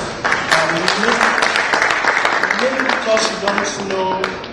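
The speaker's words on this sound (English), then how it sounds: "I think you should give him a round of applause" An audience claps for a startup founder at a business event in Nigeria, steady applause sustained throughout with voices and cheering audible over it.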